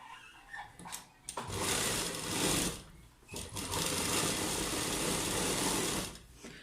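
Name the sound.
sewing machine stitching lining of palazzo pants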